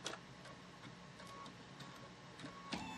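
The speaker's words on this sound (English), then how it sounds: "we are done stitching out these 2 side borders" A machine embroidery unit stitching a quilt border hums and ticks steadily at low volume, a fast mechanical patter with a couple of sharper clicks, without any talking.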